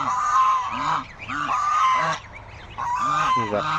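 Loud, repeated honking from several ducks, calls coming in bursts with short pauses, close by and with no one talking.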